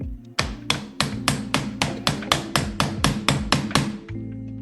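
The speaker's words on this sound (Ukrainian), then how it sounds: "Це молоток" A hammer taps a hard surface about a dozen times in a steady, even rhythm, each strike crisp and ringing.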